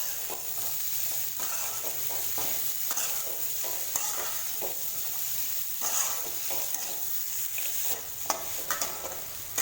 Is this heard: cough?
no